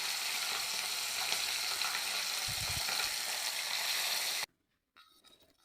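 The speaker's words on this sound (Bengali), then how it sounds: "এই যে মাছগুলো ভালো ভাজা হয়ে গেছে" Hilsa fish fries in hot oil after being flipped, giving a dense, continuous sizzle with a brief low thump partway through, before the sound cuts to near silence and a faint return.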